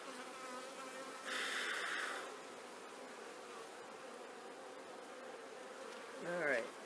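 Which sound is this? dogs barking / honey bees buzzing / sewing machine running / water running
honey bees buzzing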